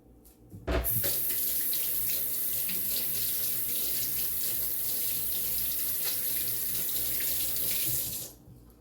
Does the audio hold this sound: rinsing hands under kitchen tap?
yes